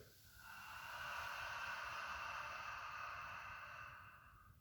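A single forceful, breathy exhale with the tongue out during a yoga breathing exercise, close and lasting about four seconds before fading.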